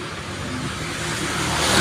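A Porsche driving past on a fairly open city road, engine noise steady and swelling slightly louder toward the end, heard alone with no talk.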